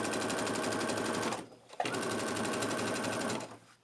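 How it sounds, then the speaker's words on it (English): A sewing machine stitches an inside pocket onto a bag in a loud, rapid, even run, stops briefly with a small click, then resumes a second steady burst before winding down. "Back stitch first, and then just stitch all the way down"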